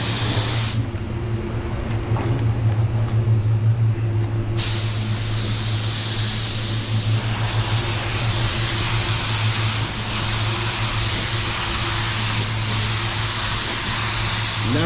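Spray paint gun laying down candy red paint with full trigger pulls, a steady, loud continuous hiss of atomized spray over a low hum, running unbroken for about fifteen seconds.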